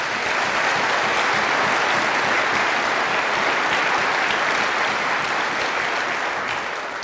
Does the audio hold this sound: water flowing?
no